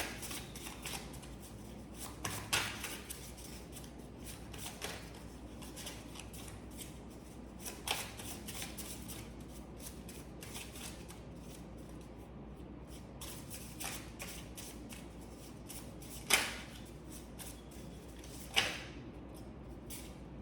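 Tarot cards being shuffled in a quiet room, giving a soft, continuous papery rustle with occasional sharper slaps of cards, heard close and alone for about twenty seconds.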